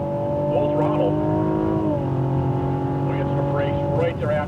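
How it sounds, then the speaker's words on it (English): A Cadillac ATS-V accelerates at full throttle on a race track, its engine drone steady and loud with a pitch shift partway through, while a person talks over it. "And once the car is straight, full throttle."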